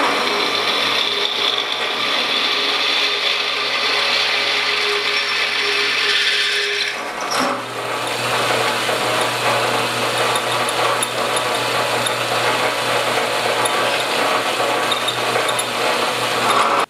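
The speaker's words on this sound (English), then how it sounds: "so I'm just going to drill it" Power drill boring a hole one size over 7/16 inch into steel for a front receiver hitch on a 1967–1972 Chevy or GMC pickup, a steady, loud mechanical whine that shifts pitch midway and keeps grinding on alone.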